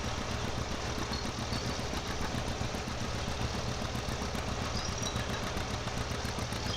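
A modern low-power tractor in Farming Simulator 17 pulls a small seeder. Its steady droning engine hum holds at a constant level throughout, close and continuous, with no talk.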